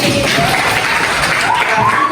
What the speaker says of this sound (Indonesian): Oke, sama tepuk tangan.